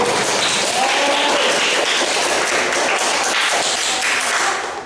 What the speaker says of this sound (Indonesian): Awali dengan tepuk tangan yang meriah terlebih dahulu.